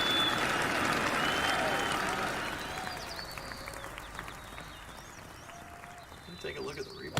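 A golf gallery at a Tampa Bay tournament's final round applauds a tee shot on the fourth hole, a loud burst of clapping that fades after a couple of seconds into scattered claps and chirps, with commentary over it.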